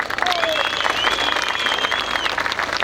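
A crowd applauds steadily throughout at a political rally in Uşak, dense clapping with a speaker's voice carrying over it.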